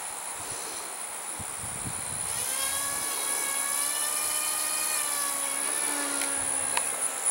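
A small capacitor-powered electric motor on an undersized RC airplane whines in flight, a steady buzzing tone that rises in pitch and holds, moderately near against outdoor wind noise.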